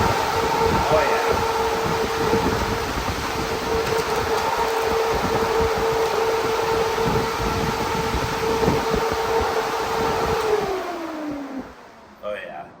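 Jegs 52118 dual electric cooling fans on a Tempest whir at full speed as a loud, steady, droning whoosh, then spin down with a falling tone near the end.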